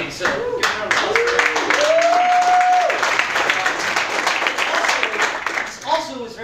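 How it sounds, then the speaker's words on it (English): Audience applause at a JavaScript conference talk, steady clapping from a crowd lasting several seconds, with a voice speaking over it near the start. "So, give a round of applause."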